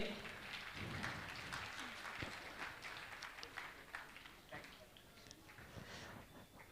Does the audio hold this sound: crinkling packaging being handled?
no